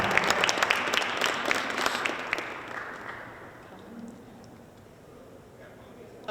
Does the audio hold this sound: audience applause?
yes